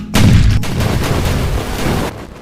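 Portuguese ship cannons in a video game naval battle fire in a loud, dense burst of booming blasts that roll into a sustained rumble of continuous gunfire, with no talk.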